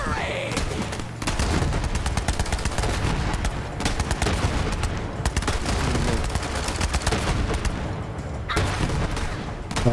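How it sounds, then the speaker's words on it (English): Dense, continuous gunfire in the Borderlands 3 video game, loud rapid shots piling up with short breaks, with faint voice fragments underneath. "No, I'm shooting you."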